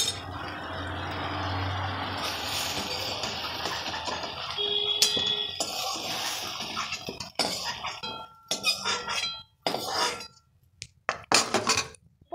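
Fried okra being lifted from a pan of hot oil for a mixed vegetable dish, heard as sizzling oil with light metallic clinks of a utensil, then scattered scraping and tapping as the frying noise drops away.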